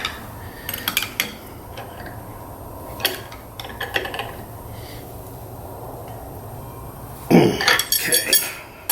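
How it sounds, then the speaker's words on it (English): Metal wrenches clink and clatter while tightening a drawer pull fixture in a workshop, with scattered sharp ticks early on and a louder burst of clanking metal near the end over a low steady hum. "get some wrenches to tighten that thing in"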